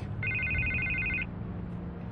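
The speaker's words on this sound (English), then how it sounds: "I can't get the phone to stop ringing." A telephone bell rings in a short burst of rapid trilling for about a second, then stops, leaving a low background hum; the scene is set during a tense phone conversation.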